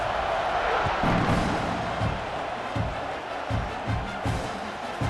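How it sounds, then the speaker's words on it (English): A stadium crowd in the EA Sports College Football 26 video game roars steadily, a broad, sustained wash of cheering punctuated by occasional low thumps, with no clear speech. "this crowd is feeling themselves after that last drive"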